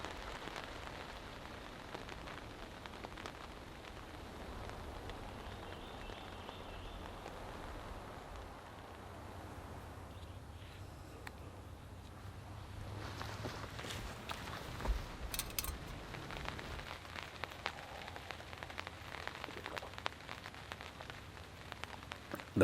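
Light rain falls steadily at a woodland campsite under an overhead shelter, a soft continuous patter of drops nearby that picks up slightly halfway through, with occasional heavier drips.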